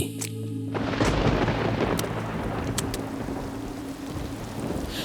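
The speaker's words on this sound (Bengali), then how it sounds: "প্রলয়ঙ্করী ঝড় বৃষ্টির রাতে কাঁপতে কাঁপতে সে পা বাড়ালো বাইরের ঘোর অন্ধকারের দিকে।" A stormy night of heavy rain with thunder: dense, steady downpour hiss with a low rumbling swell, close and loud, with no voices.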